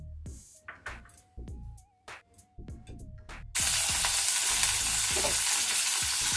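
Green chilies cut in two and dropped into hot oil for a Telugu tomato-coriander chutney: a few seconds of clattering and stirring in the pan, then a loud, steady, hissing sizzle that continues to the end.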